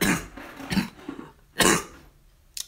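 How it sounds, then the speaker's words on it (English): Several short, harsh coughs close to the microphone, with quieter throat sounds between them during a piano livestream. "I'm coughing"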